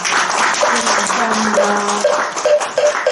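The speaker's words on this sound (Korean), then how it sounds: "우리 좋은 법문을 해주신 대마스님께 다시 한번 큰 박수 부탁드립니다" A congregation at a Sunday Buddhist dharma service claps for a monk after his sermon, a close, lively burst of applause with a few tonal sounds cutting through.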